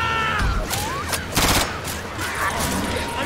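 Rapid bursts of gunfire from the video game Left 4 Dead 2, several sharp cracks clustered in quick volleys over a steady game background, loud and close, with a heavier burst in the middle.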